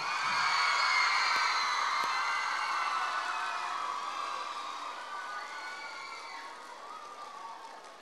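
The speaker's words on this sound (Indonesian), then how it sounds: "Saya minta tepuk tangannya, tepuk tangannya, tepuk tangannya yang paling semangat. Pakai teriakan, pakai teriakan." A large crowd of students at SMK Negeri 10 Surabaya cheers with shrill, sustained shouts and whoops, loud at first and slowly fading, with only light clapping beneath the screaming voices.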